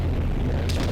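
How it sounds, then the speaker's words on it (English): An airstrike explosion in the video game Arma Reforger: one heavy, sustained boom with deep rumble filling the whole moment, loud and close, with no speech over it. "Sierra has requested an airstrike east to west"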